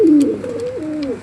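A domestic pigeon of the Mysore breed coos nearby, a soft low throaty call that dips and rises through a couple of drawn-out phrases, loud and alone.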